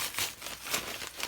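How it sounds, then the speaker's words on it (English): Crinkly plastic packaging of a felting supplies box rustles and crackles as it is opened by hand, a steady close scrunching with several louder bursts. "Apologies for the rustling."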